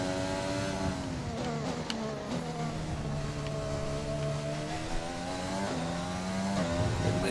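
A Formula 1 car's engine in the F1 2020 racing game drones steadily and loudly, its pitch sagging and climbing as the car brakes and accelerates through a corner.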